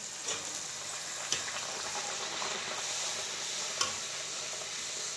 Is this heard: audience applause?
no